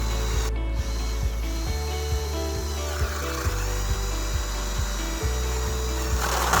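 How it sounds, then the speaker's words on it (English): A 1-inch flat drill bit bores a hole through a wooden fence board, a steady grinding whir broken by regular ticking clicks as the bit chews into the wood close up. "Then I used a 1-inch flat drill bit to drill out that hole."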